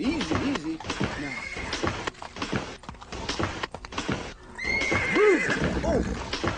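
A horse whinnies loudly and snorts, with hooves clip-clopping and clattering near at hand, and a second shrill neigh comes toward the end.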